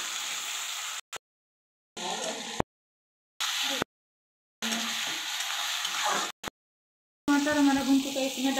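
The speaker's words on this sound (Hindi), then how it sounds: "इसमें डालेंगे टमाटर को। अभी से भी भूनेंगे प्याज के साथ।" Tomatoes and onions frying together in a pan for an egg curry, a hissing sizzle heard in separate bursts split by silent gaps, with a voice talking over the final stretch.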